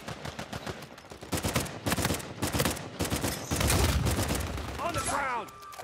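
Rapid bursts of gunfire from a firefight in Uncharted 4 multiplayer crackle in loud clusters, with a voice talking over part of the exchange.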